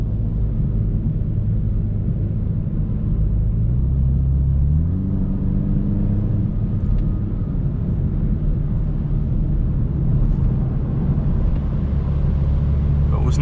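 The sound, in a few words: Toyota GR Supra 2-litre engine while driving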